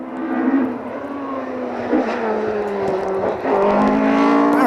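Ford Escort rally car fitted with a 2.5 litre engine, racing at a stage rally, roars loudly and steadily close by, its engine note climbing and shifting as it accelerates, with no voices over it.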